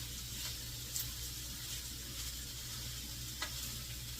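Shrimp fried rice with small shrimp sizzles steadily in a hot pan, a soft continuous frying hiss with a couple of faint clicks from the utensil.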